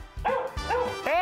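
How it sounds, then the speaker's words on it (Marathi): A dog gives three quick loud barks in a tight row, close by and clear. "कुत्र कसलं टायमिंग वर भुंकले रे."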